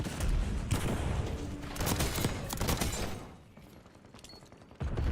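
A video game firefight with a flashbang: dense bursts of gunfire and blasts crowd the first few seconds, then drop to a quieter stretch with scattered mechanical clicks before another loud burst.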